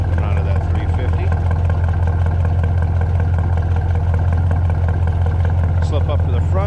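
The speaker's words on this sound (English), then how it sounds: "a little deep rumble coming out of that 350" A 1963 Chevrolet Impala SS with a 350 engine idling, its exhaust giving a steady deep rumble close by, while someone talks over it.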